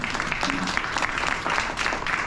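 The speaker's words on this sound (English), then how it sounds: "A big applause for all of them." An audience at an Ekal Vidyalaya Canada community event gives dense, steady applause, with many overlapping claps forming a continuous wash of sound at close range.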